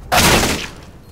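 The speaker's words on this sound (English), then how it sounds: "Throwing flashbang." A flashbang grenade bursts in Counter-Strike: Global Offensive, a sudden loud bright blast that hisses and decays over about half a second before trailing off, with no talk.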